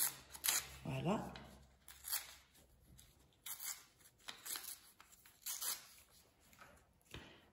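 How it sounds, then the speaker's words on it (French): Paper is torn in several short rips and crinkles, close by and irregular, with soft rustling between them. "Vous allez déchirer les bouts."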